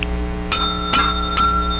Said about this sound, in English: Can I get a bell?